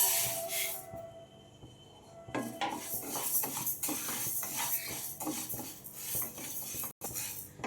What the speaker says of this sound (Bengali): ডালটা আমি হালকা ভেজে নেব।